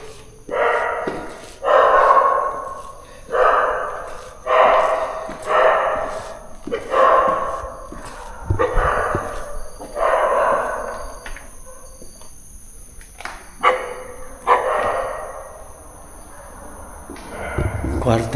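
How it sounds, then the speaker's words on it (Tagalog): Dog barking in repeated bursts inside an abandoned university building, roughly a dozen barks at a steady rhythm, fairly close and loud, under a constant high electrical whine. "Ay, may aso."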